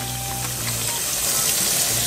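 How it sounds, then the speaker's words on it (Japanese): Steady running water splashes continuously as fish is rinsed under a tap, close by with no talking. "じゃあ、だしに使うやつをお湯で洗います。"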